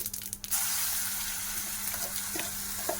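Tomato, coriander and mint chutney sizzles in a pan on a low stove flame, a steady close frying hiss with faint stirring clinks and no talk.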